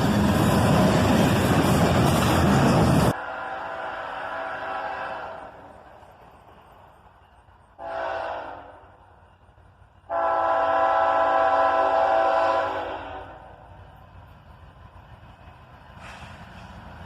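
A CSX freight train led by Indiana and Ohio locomotives passes with an ES40DC leading and an AC44CW trailing: a loud rushing roar cuts off abruptly, then horn blasts sound in several separate bursts over a low rumble.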